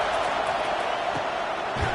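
Stadium crowd noise in Madden 24, a constant wash of roaring fans with no breaks or distinct peaks, heard on its own.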